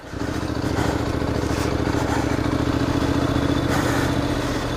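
A Honda NC700XD motorcycle engine drones steadily while riding on trails around Currahee, a close, even mid-pitched rumble with a faint mechanical clatter throughout, no talking.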